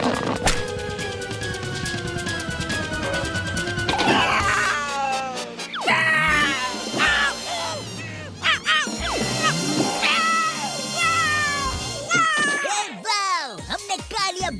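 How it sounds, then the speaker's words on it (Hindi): A cartoon cat meows and screeches loudly in repeated rising and falling cries, mixed with animated sound effects and voices talking over it. "हमने कालिया बिल्ला को भगा दिया यार"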